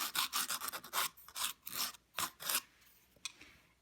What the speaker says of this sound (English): you're also going to file it.